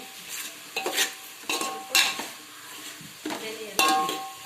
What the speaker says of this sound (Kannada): ಆನಂತರ ಮನೆಯಲ್ಲಿ ತಯಾರಿಸಿದ ಮಸಾಲವನ್ನು ಹಾಕಿ ಮತ್ತೆ ಮಿಕ್ಸ್ ಮಾಡಿ